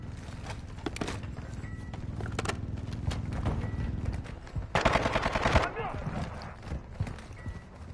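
Video-game gunfire crackles in rapid bursts over a dense rumbling background, with a sharp, loud volley near the middle, while voices talk over the action.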